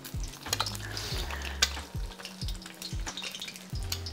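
An egg fries in hot oil in a pan, sizzling close and steadily while oil is flicked over its top, with repeated short scraping and stirring sounds and no talking.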